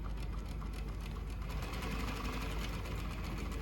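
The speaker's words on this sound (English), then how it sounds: "And this is the sewing machine right here." A Kansai DFB1404-P chain stitch sewing machine runs steadily at speed, a rapid even mechanical whir and clatter, close up and continuous with no talking.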